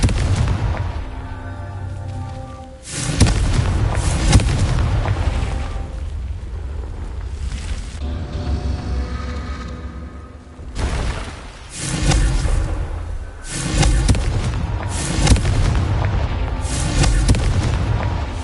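Explosive Confringo spell blasts in the Hogwarts Legacy video game, several loud booming bursts spaced across the stretch with rumbling decay between them and no talk.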